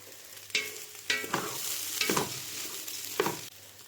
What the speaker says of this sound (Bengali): চাল ভাজতে ভাজতে আমি খেয়াল করলাম আমার হাঁড়িটা ছোট হয়ে গেছে